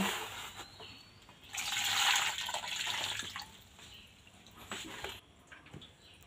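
Running water washes peeled pineapple pieces in a kitchen. A faint, steady trickle and splash goes on with a brief louder gush, and nobody speaks.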